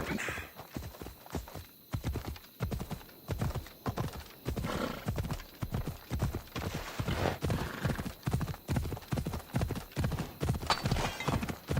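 A horse gallops in Assassin's Creed Odyssey with rhythmic clip-clop hoofbeats throughout, close and steady, with a whinny or two and faint voices breaking in now and then.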